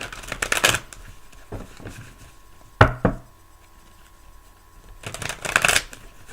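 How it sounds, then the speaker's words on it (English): A deck of tarot cards shuffled by hand, giving crisp, close riffling bursts at the start and again near the end, with a sharp knock from the cards tapped down in between. "I'm gonna pick a couple tarot cards."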